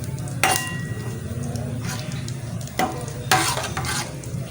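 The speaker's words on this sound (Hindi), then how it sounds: "और ये अजवाइन का तड़का तो बहुत ही मज़े का लगता है ना" Continuous sizzling of carom (ajwain) seeds tempering in hot oil, with a few louder crackling bursts and a stirring utensil scraping the pan.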